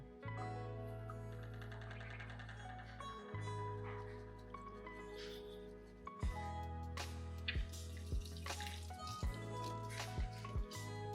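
Soapy water sloshes and gurgles inside a glass dab rig being shaken and rinsed, with wet squishing, dripping and bubbling pops growing more pronounced toward the end, close and fairly quiet.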